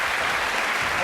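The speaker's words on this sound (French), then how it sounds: "on peut applaudir" A studio audience on a French TV variety show applauds to welcome a horse named Jason, the clapping dense and steady throughout the short moment.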